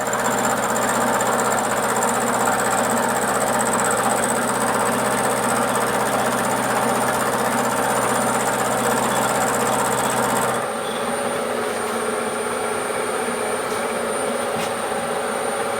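Metal being ground in a workshop, heard as a loud, steady, close grinding whine with a buzzing hum. It runs unbroken for about ten seconds, then cuts out and leaves a quieter, lingering machine drone.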